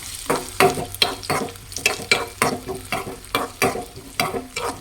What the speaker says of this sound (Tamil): நெய்யில் வந்து திராட்சை முந்திரி போட்டோம்.